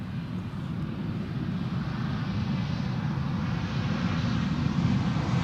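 Airbus A320neo jet at Schiphol Airport, a steady broad engine roar that holds loud and constant throughout with a slight swell toward the end, heard from a distance with some wind rush.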